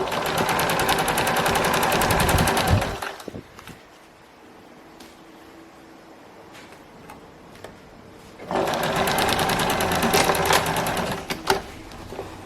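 A sewing machine stitches a skirt seam in two loud, rapid, steady bursts, with a quiet pause between them filled by faint clicks and handling.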